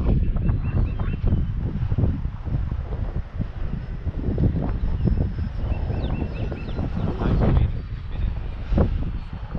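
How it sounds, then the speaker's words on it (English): Strong gusty wind buffets the microphone at a radio-controlled model airplane flying field, a steady low rumble with surging gusts filling the whole stretch, no voices heard. "The wind is really blowing today."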